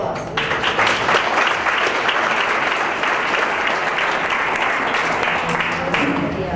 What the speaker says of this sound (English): let's give Matt a big round of applause